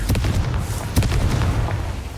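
Confringo fire spell explodes in the Hogwarts Legacy video game, a loud burst of booms with a few sharp blasts about a second apart over a dense, rumbling roar.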